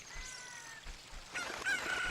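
A cucco chicken clucks and squawks in The Legend of Zelda: Ocarina of Time Master Quest on the Nintendo 64, with several short bursts of cries in the second half over faint game background.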